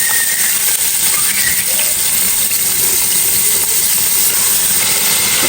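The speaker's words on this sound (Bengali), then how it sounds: "তারপরে পেঁয়াজ দিয়ে দিব" Onions go into hot oil with bay leaf, cardamom, pepper and cinnamon, giving a loud, continuous close hiss and sizzle throughout.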